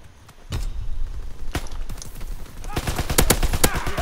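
Video game gunfire in a military shooter, a few isolated loud shots followed by a dense, rapid burst of automatic fire near the end, with no talking.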